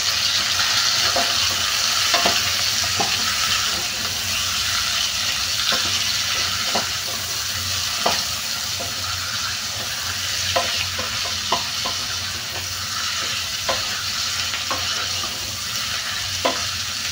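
Chicken wings sizzle steadily in a hot pan, with occasional close scraping knocks of stirring scattered over the continuous loud frying hiss, no talk.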